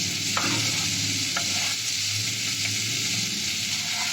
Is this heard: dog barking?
no